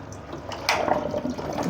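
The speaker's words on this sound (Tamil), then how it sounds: "இது வந்து தண்ணி விழுகுறது தெரிய இருக்குங்களா? தண்ணி வந்துட்டு இருக்கு." Water pours from a pipe after a motor pump is switched off, a steady rushing splash that grows louder partway through and continues close by without talk.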